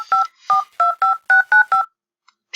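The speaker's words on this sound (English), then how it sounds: "She picks up her cell phone and dials the number for one of the potential investors" Eight quick touch-tone beeps from a cell phone keypad in the video game Anime Studio Simulator, evenly spaced and clear, followed by brief silence.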